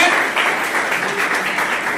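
An audience claps together in sustained, even applause at a Republic Day tree-planting event at a school, steady and fairly close for the whole stretch.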